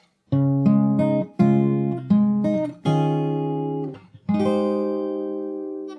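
Fingerstyle guitar picks out part of the Animal Crossing New Horizons theme, a series of clear plucked notes and chords in short phrases, each ringing and decaying before the next, played alone and close.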